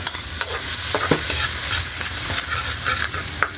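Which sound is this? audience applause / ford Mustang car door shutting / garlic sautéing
garlic sautéing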